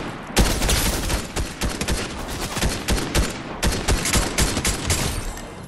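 Gunfire in the battle royale game Fortnite, loud bursts of rapid shots in clustered volleys with brief gaps, close and dominant with no talk over them.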